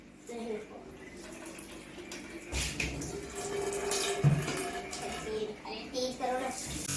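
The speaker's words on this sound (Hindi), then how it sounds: "बर्तन धुल रहा है" Tap water running and splashing while dishes are washed at a home sink, a steady close stream with clinks and changes in flow, with a voice and other talk over it.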